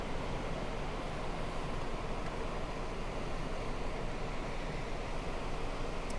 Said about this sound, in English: What a rushing river.